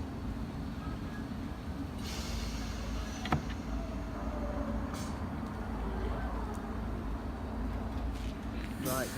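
A Class 333 electric train, unit 333014, pulls out of Bradford Forster Square station with a steady low rumble and mechanical hum, one sharp click partway through and faint rattles, under light background noise.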